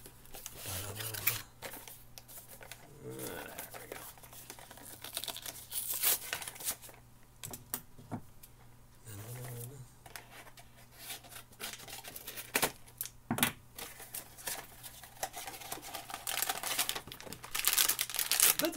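Packaging is torn and crinkled open during a gaming loot box unboxing, close-up rustling plastic and paper with intermittent sharp rips and crackles scattered over a long stretch, a few low thumps between.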